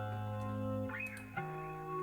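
A sustained guitar sample with a little reverb, played in Logic Pro, rings as layered tones at a quiet level. Its pitch bends and shifts partway through, and it sounds alone with no talking.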